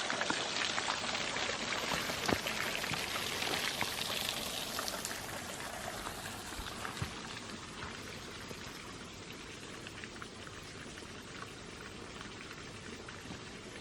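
Water flowing in a stream outdoors in a Swedish summer landscape, heard as a steady rushing and trickling wash that is louder at first and settles into a softer continuous flow.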